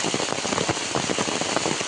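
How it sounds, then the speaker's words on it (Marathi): Heavy rain pours down in a dense, continuous hiss of drops, close and loud with no voices. "पाऊस पण खूप पडतोय."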